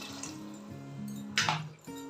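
Water poured into a pot of rice with yogurt and mint for mutton biryani, about three cups of rice to five and a half cups of water, giving a brief close splashing pour and drips over a steady faint tonal background, with no talking.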